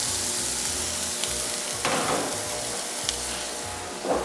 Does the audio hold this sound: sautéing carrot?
yes